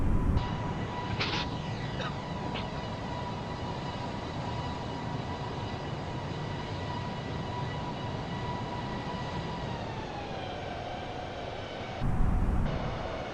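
A small airplane's engine drones steadily in flight during a landing approach with gear down and full flaps, a constant near hum whose pitch sags late on, with a brief louder rush near the end and no talk.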